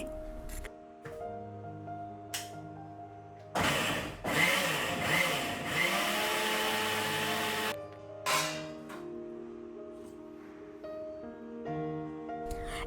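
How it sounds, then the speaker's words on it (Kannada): Hair mask ingredients are ground in a mixer grinder, with a loud whirring burst of blending in the middle framed by short pulses of motor noise and clinks, close and without talk. "ಸೊ ಇವಾಗ ಇದನ್ನು ಗ್ರೈಂಡ್ ಮಾಡ್ಕೊಳ್ತಾ ಇದ್ದೀನಿ"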